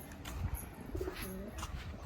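Fancy pigeons in a loft give soft, low cooing calls that sit faint in the background for a couple of seconds, with a little ambient noise around them.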